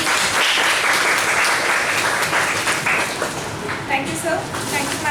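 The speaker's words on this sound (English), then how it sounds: "A big hand of applause." An audience at a health-information blockchain conference session applauds during a felicitation, with a loud, dense clapping that gradually thins toward the end while a voice is heard faintly over it.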